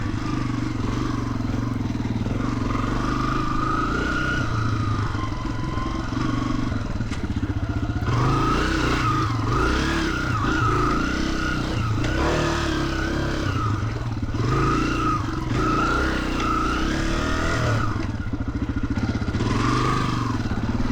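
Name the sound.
Honda CRF300F air-cooled dirt bike engine while riding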